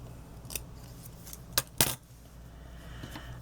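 Scissors snip through green paper in a few quick, crisp cuts, with two close snips near the middle standing out against a quiet background.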